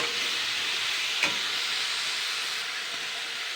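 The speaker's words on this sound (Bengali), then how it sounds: "এবার আমি নাড়াচাড়া করে নিচ্ছি টমেটোর" Green tomatoes frying in a pan with a little sugar, stirred as they cook: a steady, close sizzle throughout with one brief scrape of the spoon near the middle.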